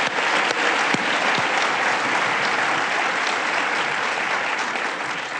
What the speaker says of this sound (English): So let's give them once again a big round of applause.